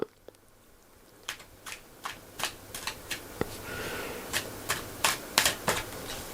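Tarot cards shuffled by hand in a quiet room, a soft, faint run of crisp riffling snaps and flicks coming in irregular bursts, with no one speaking.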